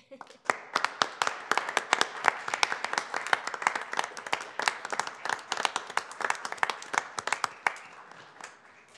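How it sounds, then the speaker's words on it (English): A small gathering at a city council meeting claps. The separate, sharp hand claps stay fairly close and steady for several seconds, then thin out toward the end. "I think they deserve another round of applause."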